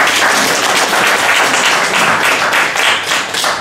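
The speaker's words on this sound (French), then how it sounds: "S'il vous plaît, aidez-moi à les applaudir" Applause from an audience at a French-language event in Brussels, a dense, steady wash of clapping that holds at even loudness for a few seconds with no voices over it.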